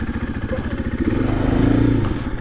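A 2024 KTM EXC-F 500 Six Days dual sport motorcycle runs close by, its single-cylinder engine thumping in a rapid, loud, uneven rhythm that swells slightly as it revs.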